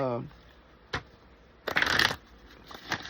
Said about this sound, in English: I'm going to shuffle these three and I'm going to pull.